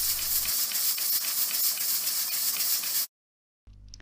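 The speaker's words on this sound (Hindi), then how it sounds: "प्रेशर हमने रिलीज़ किया और इसका लिड खोला।" A pressure cooker of grated-free carrot halwa vents steam in a loud, continuous close hiss that stops abruptly, followed by a short silence and then a faint return of sound.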